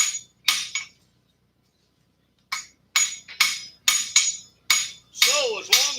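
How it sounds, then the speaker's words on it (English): Sharp metallic ringing strikes of a blacksmith's hammer on metal against an anvil, two quick blows, a pause, then a run of about eight close, loud, ringing hits in an irregular rhythm. "when you're hammering something, the only thing that's being affected is between the hammer and the"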